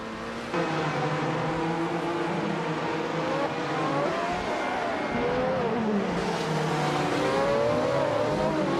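Race cars leave the start at Sepang in a futuristic video game race, a loud, steady chorus of revving engines with rising and shifting pitch sweeps as the pack accelerates, continuous throughout.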